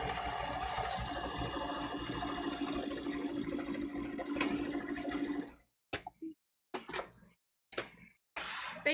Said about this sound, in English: It is still sewing.